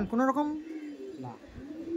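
Madrasi pigeons coo softly beneath a man's close, steady talking, the low calls barely rising above his voice.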